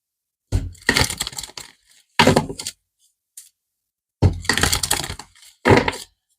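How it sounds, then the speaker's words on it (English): A deck of playing cards being shuffled by hand during a tarot-style card reading, heard as several loud, close bursts of riffling and snapping with short silent gaps between them, with no talking. "One more shuffle, thank you."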